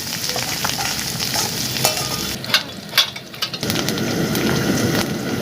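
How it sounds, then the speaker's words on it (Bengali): Chicken pakora mixture being stirred in hot oil, a steady close sizzle and frying hiss with scraping spoon strokes throughout, no talk. "দিয়ে ভালো করে তেলের মধ্যে নেড়ে নেব"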